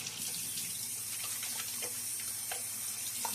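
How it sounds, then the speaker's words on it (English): Water runs steadily from a tap into a sink while wet shaving, a continuous close splashing wash with a few brief drips and clinks over it. "A little splash of water now."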